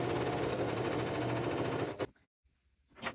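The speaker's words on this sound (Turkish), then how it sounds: "katladığım kısımları düz dikişle dikiyorum." Sewing machine running a straight stitch along folded fabric edges, a steady dense whirring hum for about two seconds that stops abruptly, followed by near silence and a brief faint burst.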